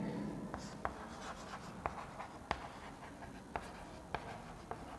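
Pen or chalk writing notes during a cell biology class, with soft scratching strokes and sharp taps roughly every half second, quiet and close, over low room noise.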